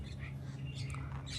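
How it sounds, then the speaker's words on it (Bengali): A flock of birds gathering to be fed calls with scattered chirps and squawks, faint and somewhat distant, over a steady low hum. "এই পাখি সব নিচে খেতে আসবে, খাওয়ার দিলেই খেতে আসবে সব"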